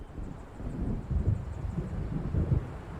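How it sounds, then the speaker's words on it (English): An approaching storm in Alan Wake Remastered, low rolling thunder rumbling in uneven swells beneath steady gusting wind, moderately loud and distant, with no speech. "It seems there's a storm coming."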